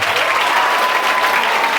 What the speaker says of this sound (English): Give a big round of applause to yourself.